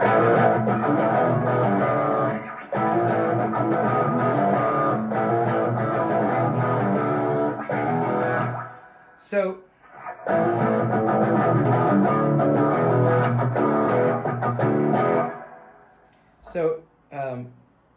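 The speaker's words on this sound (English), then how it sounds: "I add a little percussive, muted down and up strum." A distorted electric guitar plays a riff in bursts, with short muted percussive strums in the gaps between phrases.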